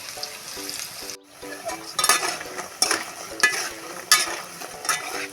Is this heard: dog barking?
no